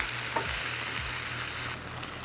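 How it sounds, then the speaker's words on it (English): Tomatoes and garlic sizzle steadily in a hot pan, a dense, continuous frying hiss with faint stirring scrapes, heard close up with no talking. "I'm gonna drop these sizzling tomatoes and garlic all over."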